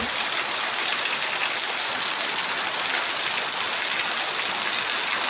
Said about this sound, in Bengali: কতক্ষণ ভরা বৃষ্টি হইতেছে দেখেন, প্রায় 10-15 মিনিট হয়ে গেল।